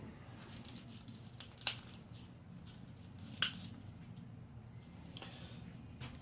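Cutters snipping Stihl trimmer line, two sharp, crisp clicks about two seconds apart, plus a fainter third cut later, close by over a low background hum with no speech.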